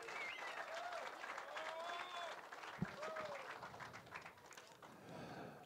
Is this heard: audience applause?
yes